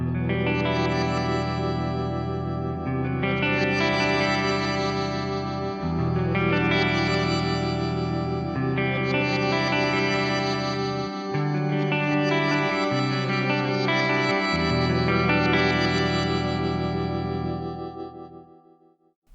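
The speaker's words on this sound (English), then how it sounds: "This is already a pretty sweet and inspiring shimmer" Guitar played through a shimmer effect on a Fractal FM3 effects unit, lush sustained chords with octave-up shimmering overtones swelling over several long strums, then fading at the end, with no talk.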